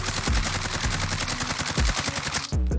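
AMAX assault rifle firing in a video game, held steady with recoil control: a loud, continuous burst of rapid automatic shots with an even rhythm, no voices, cutting off just before the end.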